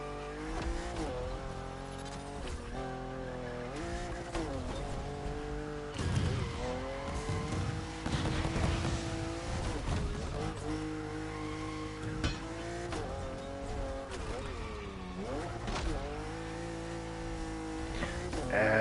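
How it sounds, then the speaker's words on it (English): Drift car in a racing video game, engine revving and dropping repeatedly as the tires squeal through long slides, loud and close, gear shifts and wavering pitch throughout, with no voices. "I can't get a driving line with it because it's a drift car."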